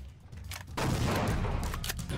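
Rapid bursts of gunfire in a Christmas-themed skirmish, a dense crackling volley that swells loudly after a quieter start and stays close and continuous.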